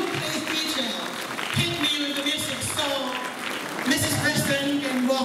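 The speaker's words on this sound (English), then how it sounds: "Please give her a round of applause" Audience applause at a 21st birthday celebration in Wellington, honouring the birthday girl's aunt: dense clapping running throughout, with music and crowd noise underneath.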